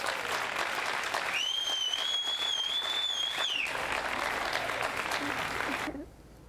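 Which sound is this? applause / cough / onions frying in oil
applause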